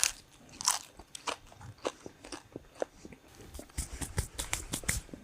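Close, crisp bites and crunchy chewing of ham come in irregular bursts of crackling snaps, with no talking.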